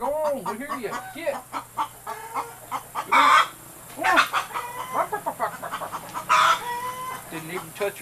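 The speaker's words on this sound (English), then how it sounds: "Even though there's not supposed to be a single chicken in there." A hen clucks and squawks inside a rabbit building, with rising and falling calls repeated close by over several seconds and a few louder outbursts.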